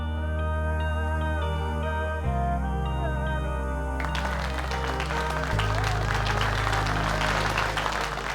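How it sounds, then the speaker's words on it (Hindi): Applause from a crowd on a Hindi TV drama set, rising into a dense, steady clatter of clapping partway through, heard under loud sustained background music. "सब तुम्हारे लिए तालियां बजा रहे हैं।"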